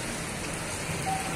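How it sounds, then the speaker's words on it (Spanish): Steady rain at dusk in Cali, Colombia, during a thunderstorm, patters on a surface, a constant dense hiss with no other sounds. "Se incrementa la lluvia en este atardecer acá"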